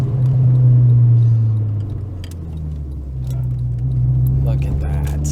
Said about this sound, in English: Rev up the Bugatti.